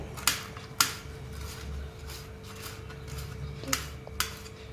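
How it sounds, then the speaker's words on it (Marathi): Knife chopping cabbage finely on a cutting board, giving four sharp, separate chops at irregular intervals over a low steady background hum. "पत्ता गोबी आपल्याला अशा प्रकारे बारीक बारीक आता कापून घ्यायचा आहे"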